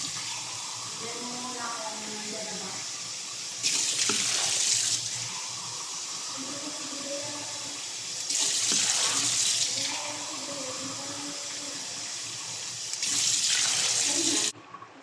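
Water runs from a kitchen tap in three separate bursts while chicken feet are being cooked, each a few seconds of close hissing flow, with a person talking in between.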